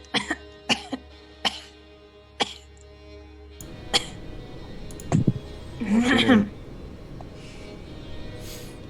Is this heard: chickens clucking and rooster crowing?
no